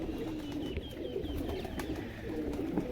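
Pigeons coo softly and repeatedly in low, throaty calls, with a few faint higher chirps over a steady background.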